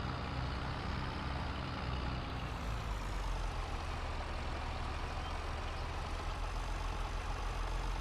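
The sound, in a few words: tractor engine in a farming video game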